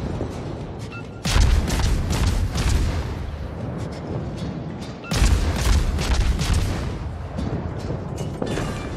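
The Khabarovsk destroyer's main guns fire in World of Warships: two heavy booming salvos, loud and near, each followed by a long rumbling decay of battle noise.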